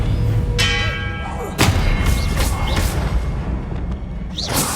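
Expelliarmus spell cast in the game Hogwarts Legacy, heard as a loud booming impact with a ringing, bell-like resonance, followed by a few fainter thuds and rumbles.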